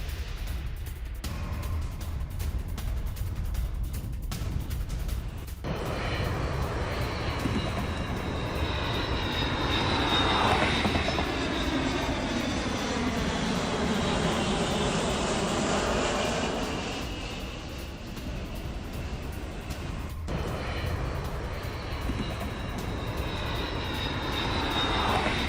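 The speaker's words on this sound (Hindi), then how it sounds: "फारस की खाड़ी के ऊपर RC-135 की उड़ान" An RC-135 Rivet Joint aircraft flying over the Persian Gulf, a loud continuous engine roar that swells and sweeps in pitch as it passes, sustained for the whole stretch with no talk.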